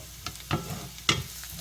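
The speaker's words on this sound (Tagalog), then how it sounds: "Ginisa na natin yung ating shallot, garlic, ginger." Shallot, garlic and ginger sauté in sesame oil in a pan for chicken rice, with short sizzling bursts and a few stirring scrapes close by, no talking.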